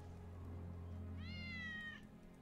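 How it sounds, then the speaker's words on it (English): A cat meows once in Final Fantasy 7 Remake, a single clear, rising-then-falling call heard over a low steady game hum. "Hear that? Kitties. That's Wedge's cat."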